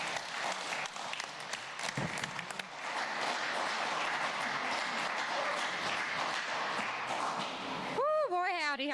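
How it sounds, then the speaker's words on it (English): An audience at a 2019 storytelling event gives a sustained round of applause to welcome the storytellers, dense clapping throughout before a voice cuts in near the end. "Let's welcome them with a round of applause."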